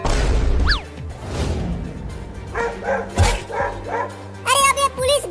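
A dog barks repeatedly outdoors in a comedic skit, loud close yips and barks in bursts with whimpers, mixed with shouting voices and a crash.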